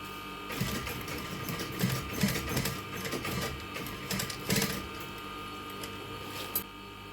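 A coverstitch sewing machine binds the neckline of a T-shirt, running in a steady mechanical whir with short faster bursts, close and moderately loud, with no voices.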